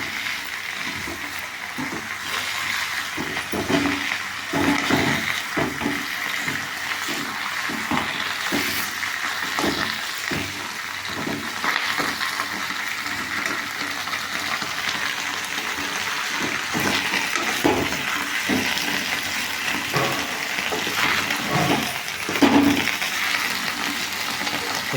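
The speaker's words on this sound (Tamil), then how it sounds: "இப்போ பாருங்கள், தண்ணி ஊற்றுறோம் பாருங்கள்." Water is poured into a pan of sautéed drumstick greens, a continuous close-up splashing and gurgling stream with a light sizzle underneath that keeps an even level throughout.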